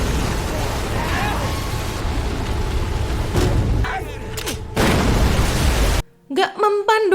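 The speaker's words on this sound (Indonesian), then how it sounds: "biar diledakin pas si Goji nabrak ranjaunya" Naval mines explode against Godzilla in the film Godzilla Minus One: continuous rumbling, roaring blasts fill about six seconds before cutting off, followed by a voice speaking.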